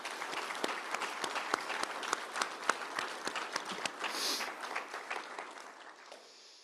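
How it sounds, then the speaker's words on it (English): Audience applause honoring an education icon at a Black History Month celebration, a dense patter of many hands clapping together, fairly distant and soft, fading gradually toward the end. "let's give you a big round of applause"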